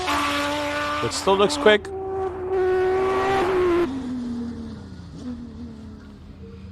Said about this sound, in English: It sounded like he maybe just missed a gear shift there, or maybe at the rev limiter